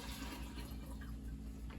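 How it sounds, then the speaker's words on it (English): Water pours steadily from a tap into a container, filling it to make about two gallons of sweet tea for homemade kombucha; a continuous close rushing sound with no voices. "we're gonna add enough water to this to fill this up, 2 gallons worth"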